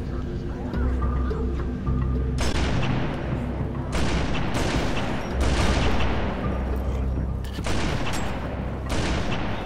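Sniper rifle fire in the Halo 3 co-op game, heard as several loud, sharp booming shots spaced a second or two apart. Each shot rings out against a constant game background, and speech is mixed in.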